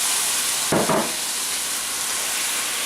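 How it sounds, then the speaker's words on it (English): A tomato mixture for empanada filling simmers in a pan with a steady, even hiss and sizzle, swelling in one brief louder burst near the start before settling back to a constant bubbling wash. "we're just going to let this simmer just for a couple minutes"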